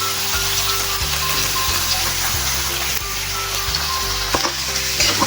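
String beans with corned beef are stirred in a hot pan, a continuous loud sizzle of frying with repeated scraping strokes of a utensil against the pan, close up and without talk.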